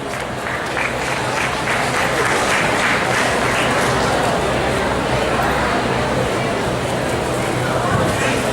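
Sustained audience applause fills a hall during a felicitation at an HR meet panel discussion, a steady dense wash of clapping from a large crowd that runs the whole stretch, with faint voices beneath.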